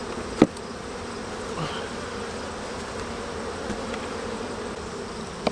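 A honeybee colony hums with a dense, continuous buzz during a hive inspection, steady and close, broken only by a couple of sharp clicks.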